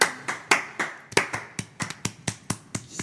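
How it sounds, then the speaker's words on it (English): A few people clapping loosely and slightly out of sync during a podcast episode, about a dozen distinct sharp claps spaced unevenly, close and fairly loud with no talk over them. "I love the individual clapping sound"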